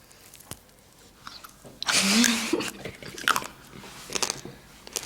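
Crunchy, hard chicken skin from a home-cooked chicken with olives is bitten and chewed close to the mic, with a loud burst of crunching midway followed by softer crackly chews.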